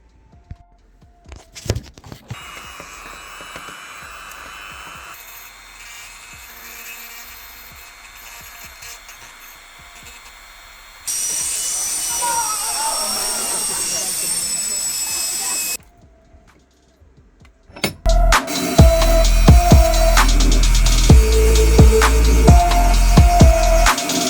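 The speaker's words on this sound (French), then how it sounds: "je vais passer à la Dremel à l'intérieur pour affiner au plus possible" Dremel rotary tool grinding inside the handle of an Opinel folding knife during a restoration, with bursts of high whining buzz separated by quieter scraping and handling noises, close and loud.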